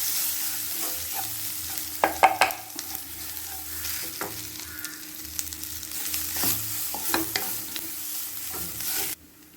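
Curry leaves and grated coconut tempering in hot oil in a pan for white urad dal sundal give a steady, close sizzle, with sharper spatters and utensil stirring clatter near the start and again later, and no talking.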